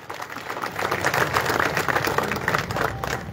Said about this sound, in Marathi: सगळ्यांनी जरा जोरदार टाळ्या वाजवा